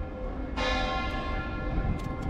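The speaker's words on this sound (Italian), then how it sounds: "sentite le campane" Church bells ring 9 o'clock in the town of Campo d'Arsego, Veneto, with a sudden strong stroke, their tones hanging and overlapping steadily against a quiet outdoor background.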